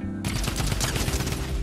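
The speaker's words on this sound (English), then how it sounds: "The drum gun's fire rate has also been buffed." A drum gun in Fortnite fires a loud, rapid automatic stream of shots that runs without a break after a short quiet lead-in.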